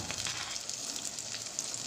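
Onions and tomato with salt fry in a clay pot for a village-style Tamil fish curry, making a faint, steady sizzling hiss with light crackles throughout.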